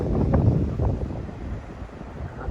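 Strong south wind buffets the microphone at a busy, choppy beach near Sarasota, a steady loud rumbling roar that surges near the start and then holds, with no talk.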